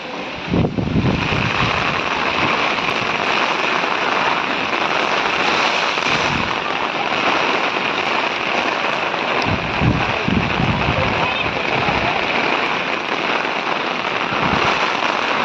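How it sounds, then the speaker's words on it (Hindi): Steady rain hisses continuously, with occasional dull thumps and gusts breaking through the even wash of noise. "तो बारिश धीरे धीरे तेज होती जा रही है।"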